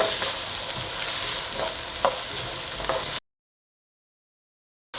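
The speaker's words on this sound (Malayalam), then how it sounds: "അതിലേക്ക് ഞാൻ ഉള്ളി ചേർത്ത് കൊടുക്കുകയാണ്. അതോടൊപ്പം ഉപ്പും വെളുത്തുള്ളി ഇഞ്ചിയും ചേർക്കുകയാണ്." Onion frying in hot oil with salt, garlic and ginger, a close, dense sizzle with a few sharp stirring clicks for about three seconds before dropping into silence.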